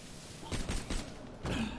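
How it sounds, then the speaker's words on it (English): Gunfire at a lock in Borderlands: The Pre-Sequel, a quick burst of several faint shots in succession followed by another single shot, quiet and somewhat distant beneath game ambience. "Thought maybe I could shoot the lock."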